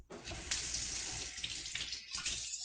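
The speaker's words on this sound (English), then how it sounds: "we're going to wash our hands with soap and warm water for 20 seconds" A faucet runs steadily during hand washing with soap and warm water, a close, continuous splashing stream with slight shifts as hands move under it.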